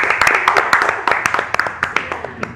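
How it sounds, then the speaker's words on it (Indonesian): Audience clapping at an election-supervisory (Bawaslu) podcast event, a dense run of sharp claps with louder individual hits standing out, steady for a few seconds under a faint background murmur. "Boleh dong kita tepuk tangan lagi yang selanjutnya."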